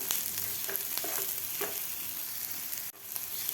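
Sesame seeds and onion roasting with spices in a pan, giving a steady close sizzle with a few soft stirring scrapes and a brief dip near the end.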